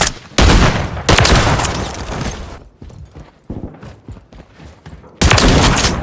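Shotgun fire in the video game Call of Duty: loud, sharp blasts open and close the passage, with a burst of shots early on and quieter clattering action and gunfire in between.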